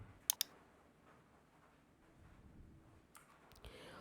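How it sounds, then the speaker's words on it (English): Computer mouse clicks while navigating menus in Outlook: a quick pair of sharp clicks near the start and a few softer clicks near the end, with a quiet room tone between them. "click on file just like so, and here click on properties"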